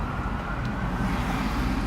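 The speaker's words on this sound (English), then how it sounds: "I hear a siren." A distant emergency siren drifts over steady road and traffic noise, faint and continuous for the whole stretch with no one speaking.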